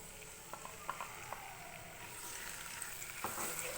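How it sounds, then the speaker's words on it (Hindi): Marinated chicken sizzles gently in hot oil in a pan over a medium flame, a soft continuous crackle with a few small pops and utensil taps, fairly quiet and close. "ये देखें ये भून रही है, तो हल्का हल्का सा मैं फ्राई कर रही हूँ।"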